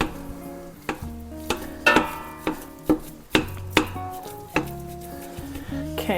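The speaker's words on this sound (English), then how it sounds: "I love this little meat masher. So I'm just going to break it up." Meat masher breaking up ground beef in a soup pot, a series of separate scraping and knocking strokes over a soft sizzle, close by and moderately loud, with no talking.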